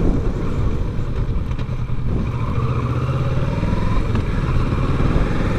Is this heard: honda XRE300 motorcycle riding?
yes